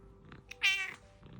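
A single clear cat meow from a Ukrainian bedtime fairy-tale audio story, drawn out for about a third of a second, close and fairly loud over a quiet background with no talking.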